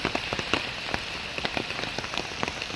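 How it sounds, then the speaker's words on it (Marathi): Monsoon rain patters on a surface nearby in the Konkan during rice transplanting, with irregular drops tapping sharply over a constant soft wash of falling water. "सकाळपासून पाऊस पडतो आहे"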